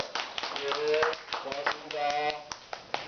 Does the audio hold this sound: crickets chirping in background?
no